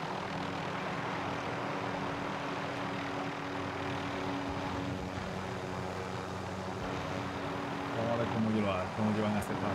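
Helicopter in the video game Warzone approaching with a continuous rumbling engine and rotor drone that swells slightly near the end, with voices talking over it.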